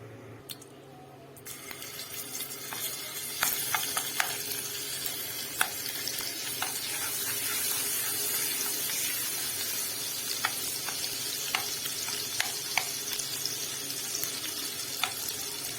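Garlic and coriander tempering poured into a hot pan sizzles loudly, a dense continuous frying hiss broken by sharp crackles and pops, close up and with no talking.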